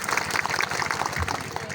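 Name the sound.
audience applause at a political party event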